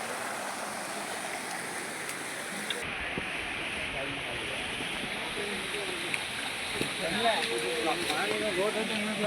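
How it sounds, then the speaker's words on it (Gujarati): A mountain spring on the old stone stairway of Girnar, Junagadh, flows in a steady, close, broadband rush of water that carries on without a break, with faint voice-like sounds now and then beneath it. "જોઈ લ્યો આ જૂની સીડી ઉપરનું ઝરણું હો ભાઈ"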